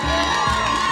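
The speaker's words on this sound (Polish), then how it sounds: "I ostatni doping, doping, doping," A crowd at a village sports tournament during a harvest festival in Ostrów Lubelski cheers and chants in a brief loud burst, voices blending into a sustained roar.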